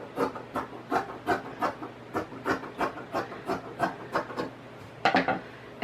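Scissors cut through thrift-store sweater knit fabric for a pillow cover in a steady series of about a dozen crisp, evenly spaced snips. The cutting is close and moderately quiet.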